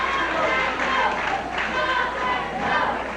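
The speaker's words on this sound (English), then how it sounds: "The crowd begins to yell, "Go, David, go!"" A wrestling crowd at a St. Louis wrestling event yells and chants in a steady roar, loud and continuous, with rising swells of voices throughout.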